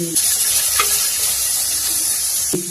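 Tomatoes fry in a pan for a fish curry, giving a steady, loud sizzle that runs throughout, broken by a few soft stirring scrapes with no voices.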